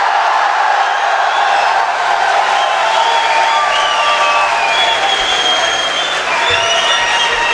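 An audience at an annual mushaira applauds steadily and loudly for the whole stretch, a dense wash of clapping from a large crowd with a few scattered shouts.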